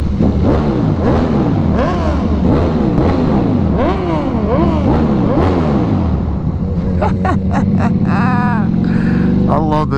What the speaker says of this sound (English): if you don't rev your engine under the bridge just to hear the sound